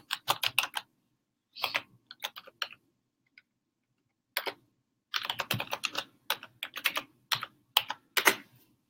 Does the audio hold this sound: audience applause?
no